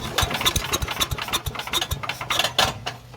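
A carburetor engine running just after a cleaning to fix a fuel leak, choke set, with an uneven, sputtering idle and irregular knocks and pops close by, no talk.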